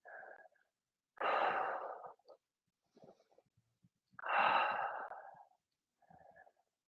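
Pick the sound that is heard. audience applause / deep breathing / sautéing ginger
deep breathing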